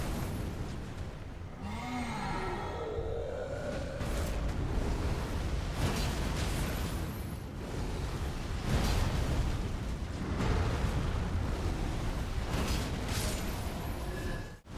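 Taker's Flames, the Blasphemous Blade weapon skill in Elden Ring, roars as a sustained burst of fire, with repeated booming whooshes swelling and fading loudly across the whole stretch, with no talk.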